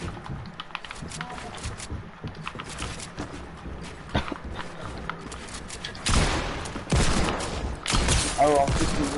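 Rapid bursts of gunfire in Fortnite crackle through the scene, with the heaviest volleys coming late and loud, mixed with game noise and a player talking.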